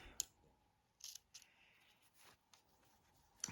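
Small snips cutting the little ears off a fabric quilt block, a few sharp, quiet snipping clicks spaced irregularly in a near-silent room.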